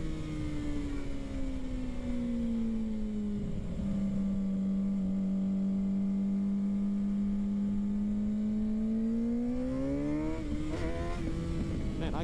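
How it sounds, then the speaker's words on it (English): A motorcycle engine drones steadily while riding, its pitch dipping and then climbing as it revs up near the end, loud and close with wind noise throughout. "I also hope that this mic isn't picking up too much bike audio."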